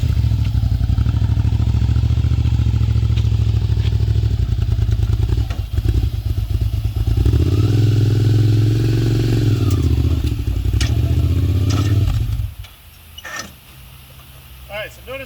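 A motorcycle engine running loud and close as the bike is ridden up a ramp into a truck bed, a steady rumble that swells midway with revving, then cuts out abruptly, leaving clanks and quieter handling noises.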